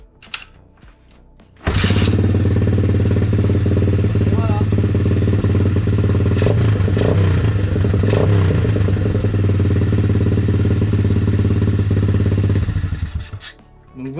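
An Apollo RFZ 125 dirt bike from 2020, its carburetor freshly adjusted, starts up and idles loudly and steadily for about eleven seconds with a few small throttle blips before shutting off.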